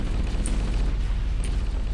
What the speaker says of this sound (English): That's a lot of TNT! Whoa! Holy shit! Oh, that's gonna explode.